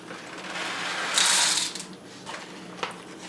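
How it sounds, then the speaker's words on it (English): A manual espresso grinder crunches through 17 grams of coffee beans, giving a brief close grinding burst with ratcheting mechanical clicks, then quieter scattered clicks. "I'm going to measure out 17 grams of beans to grind up"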